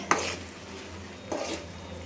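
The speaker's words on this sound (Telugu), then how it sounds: "కారం యాడ్ చేసుకొని తిప్పుకోవాలి" A spatula scrapes and clinks twice in a pan as chili powder is stirred into frying fish curry, over a low, steady sizzle.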